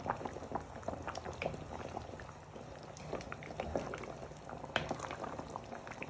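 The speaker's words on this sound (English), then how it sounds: "we'll put this on a low medium heat to bubble and thicken up" Chicken vindaloo bubbling and thickening in a pot over low-medium heat, with soft, irregular pops and blips of thick sauce, close but quiet and continuous.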